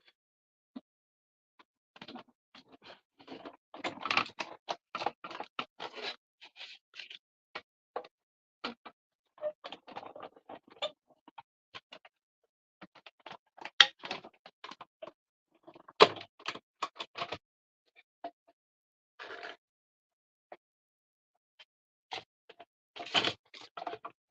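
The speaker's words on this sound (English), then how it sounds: "going to quickly die cut a circle" Die-cut machine pressing a paper circle for a Stampin' Up! latte suite card: a long run of crisp clicks, taps and cranking rattles in uneven bursts, close and fairly quiet, with no talking.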